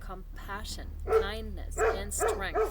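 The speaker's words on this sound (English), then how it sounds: "That's the dog in the background." Dog barking in the background, several short yips and barks scattered across the moment while a person talks steadily over them.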